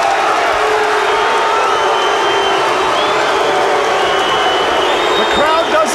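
Loud, continuous roar of a fight crowd at a 1995 no-holds-barred MMA event, booing and shouting as the towel is thrown in from the corner, with a commentator talking over it.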